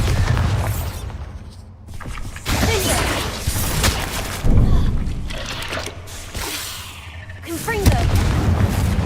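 Booming spell blasts from the Bombarda explosion spell in a video game, several loud bursts at intervals amid ongoing game noise, with shouted voices in between.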